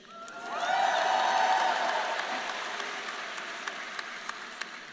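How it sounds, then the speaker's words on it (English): A crowd at a university commencement ceremony for a college of science and mathematics bursts into loud, sustained applause and cheering. It swells within a second, holds steady, then slowly thins out to scattered claps. "You're allowed to cheer."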